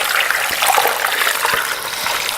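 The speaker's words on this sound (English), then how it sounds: "you'll fill it with water until it's about 2 inches from the top of the pot" Water pours steadily into a stockpot already holding bone broth ingredients, filling it to about two inches from the top; a continuous close rushing splash with no talking.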